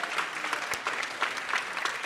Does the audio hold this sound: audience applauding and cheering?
yes